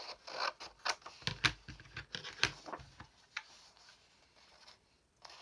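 Paper photo strip being snipped with scissors, a run of crisp close cuts and rustles clustered in the first three seconds, then fading to quieter handling.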